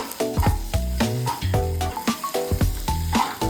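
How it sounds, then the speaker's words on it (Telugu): Eggs frying with ginger in a hot pan for an aloo egg fry, a steady loud sizzle with stirring scrapes and clinks throughout, alongside a melodic music track. "గుడ్లు వేసుకుంటున్నప్పుడు గుడ్లని ఇలా ఫ్రై చేసుకోవాలి."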